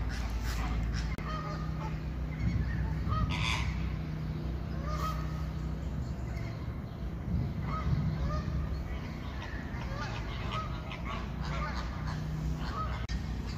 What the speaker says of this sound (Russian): А вот и фламинго.